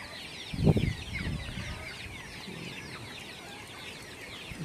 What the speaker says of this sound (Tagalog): manok natin na Rhode Island, kino-crossbreed ko sa native at saka may halong hulo